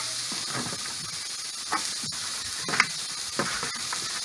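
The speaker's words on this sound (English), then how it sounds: "I'm gonna saute these up a little bit." Onions and vegetables sautéing in a hot pan give a steady close hiss with a few brief louder crackles and pops scattered through it, and no voices over the sizzle.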